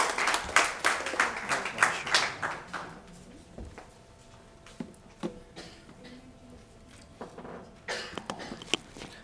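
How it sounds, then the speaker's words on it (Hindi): An audience claps, loud and dense at first, then thins to scattered claps before a few more rounds pick up near the end. "तालियां ज़ोरदार बजती रहे।"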